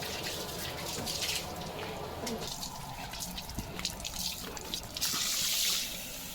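Water gushes and splashes from a garden hose pipe onto a playful dog named Leo, a steady close rush with scattered spattering bursts and brief surges.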